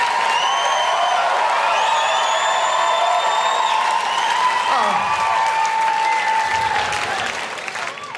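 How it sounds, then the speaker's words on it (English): A studio audience applauds steadily to welcome comedian Micky Flanagan onto a stand-up comedy show. The clapping stays loud and dense for about eight seconds, with faint tonal music running underneath. "Give that applause, Tony."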